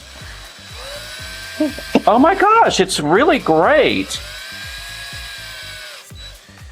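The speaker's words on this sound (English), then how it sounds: "So I drilled a hole in a carrot." A whining power drill revs in rising and falling bursts as it drills into a carrot, with a person exclaiming over it, then the motor hums steadily.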